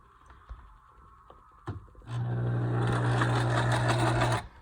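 A domestic sewing machine stitches in reverse to lock the thread, giving a loud, steady motorized whir with a rapid needle chatter that runs for a couple of seconds after a few soft clicks.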